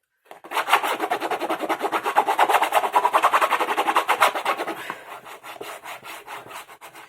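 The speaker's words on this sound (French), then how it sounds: "Il est texturé ce papier, il fait un bruit." Close, quick rhythmic scratchy rubbing of textured scrapbook paper, strokes in a fast steady pattern that softens toward the end.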